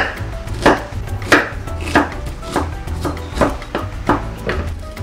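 Onion is chopped finely with a knife on a cutting board, giving about eight distinct, evenly spaced knife thuds against the board, close and crisp, with no talking.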